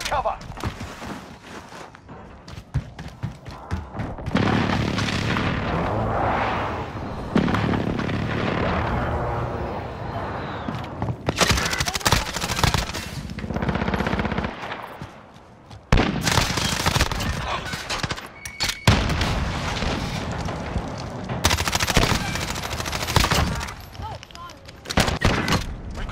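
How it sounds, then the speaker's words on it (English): Precision airstrike explosions in Call of Duty: Modern Warfare boom in repeated heavy blasts, separated by short gaps, loud and broad, with game chatter and gunfire between them. "Enemy precision airstrike, take cover!"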